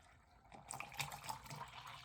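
Water poured into a 500 ml cola drink mix pouch from a British Arctic operational ration pack, a faint close trickling and gurgling that begins after a short quiet moment and keeps flowing steadily.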